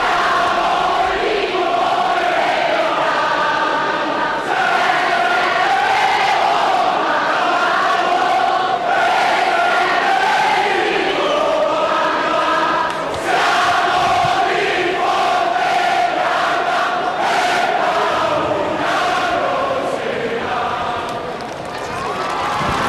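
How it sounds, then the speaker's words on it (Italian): Supporters of the Contrada dell'Oca sing loudly together as they leave the piazza in Siena after the Palio horse assignment of 2 July 2018, a dense, sustained crowd chant with rising shouts and cheers, close and continuous. "Infatti sentiamo il canto con Porto Alave che va in Fontebranda"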